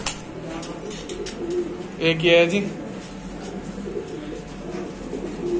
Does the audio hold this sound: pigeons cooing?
yes